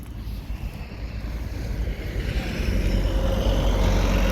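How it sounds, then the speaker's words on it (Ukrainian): A Honda Zoomer AF58 scooter rides and accelerates, a steady broadband engine and wind roar building gradually louder over the few seconds, with no talk. "подивимося, як скутер їде, як набирає"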